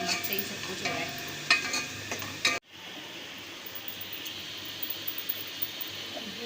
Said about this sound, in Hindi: मैंने जो है अदरक लहसुन को डालकर अच्छी तरह भून के उसमें चिकन भूनी है अच्छी तरह